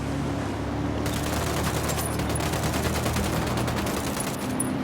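Dense squad gunfire in Ghost Recon Wildlands, with automatic rifles rattling steadily in overlapping bursts and sustained loud volley under continuous game ambience.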